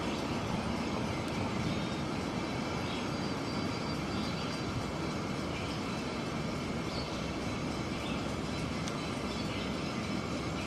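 The Lookout Mountain Incline Railway car rumbles steadily along its track in a dense, continuous roar that holds at a constant level throughout, with no talk.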